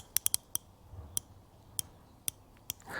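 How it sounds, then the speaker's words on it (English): Tekton 3/8-inch ratchet clicking in sharp, isolated metallic ticks, a quick triple burst followed by several single clicks spaced about half a second apart, close and crisp over a quiet background. "Little ASMR ratchet."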